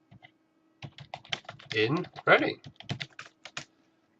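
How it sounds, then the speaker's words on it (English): Typing on a computer keyboard, a quick irregular run of close key clicks and clatter lasting about three seconds, with a brief spoken word near the start. "I'll be typing in emergency dentist"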